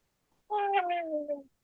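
A domestic cat gives one drawn-out meow of about a second, clear and fairly close, falling slightly in pitch, with quiet surroundings before and after.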